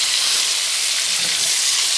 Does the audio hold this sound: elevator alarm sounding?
no